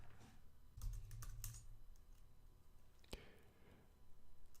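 Keystrokes on a computer keyboard as a Linux firewall status command is entered, a short burst of quick clicks followed later by a single tap, faint against a quiet room hiss.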